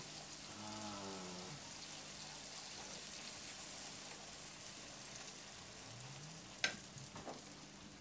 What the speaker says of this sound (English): We're going to be adding some butter to the caramelized sugar.